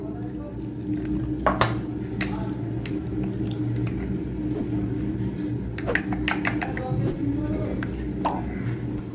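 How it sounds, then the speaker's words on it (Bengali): Fish head masala stirred with a little water in a pan, wet squishing mixed with repeated spoon scrapes and clinks against the metal, close and moderately loud, while someone speaks. "সামান্য জল দিয়ে দিচ্ছি। এবার ভালো করে মিশিয়ে নেব।"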